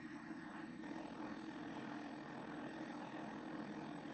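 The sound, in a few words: laundry machine running, sounding like a plane taking off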